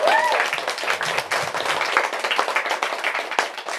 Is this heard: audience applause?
yes